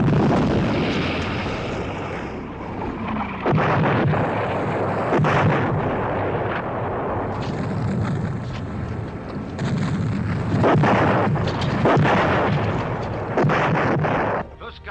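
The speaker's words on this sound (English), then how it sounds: "13 destroyers open fire on the German positions, and 80 Marauder bombers bombard the gun battery at Montcanis." Naval guns from destroyers and heavy bomber strikes pound German coastal positions and a gun battery at Gold Beach, a dense, continuous roar of booming blasts and rumbling detonations, loud and close throughout.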